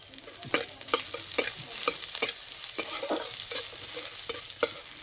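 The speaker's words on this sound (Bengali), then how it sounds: "পেঁয়াজ বেশি ভাজবো না, একটু হালকা করে ভেজে নেব" Crushed onion fries in a wok, a constant close sizzle overlaid with frequent rhythmic scrapes and clicks of a spatula stirring, with no voices.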